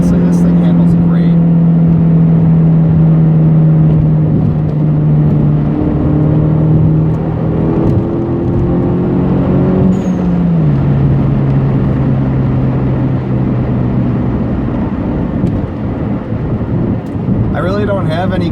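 An R56 Mini Cooper S on MaXpeedingRods coilovers drives along, its engine humming steadily from inside the cabin, with the tone easing down partway through as the car shifts or slows.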